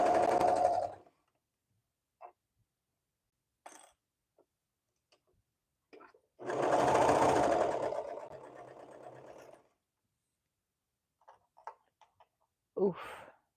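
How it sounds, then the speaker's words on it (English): A sewing machine sews a sleeve onto a dress in two short bursts, the second a longer whirring run of several seconds, with small clicks and handling noises between them. "I'm just going to sew it on, and then I'll repeat for the other side."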